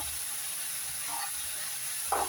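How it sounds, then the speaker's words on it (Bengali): Vegetables cook in a pan for a curry, steady sizzling hiss with a couple of soft stirring scrapes, close and fairly quiet. "খুব ভালো করে একটু নেড়ে চেড়ে দিব"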